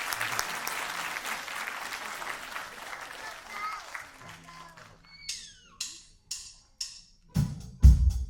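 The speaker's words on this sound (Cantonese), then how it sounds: "大家俾啲掌聲啊" An audience at a Hong Kong inclusive-arts foundation performance applauds. The applause is broad and steady for about four seconds, then fades away. Scattered chirpy sounds and bursts of voices and noise follow.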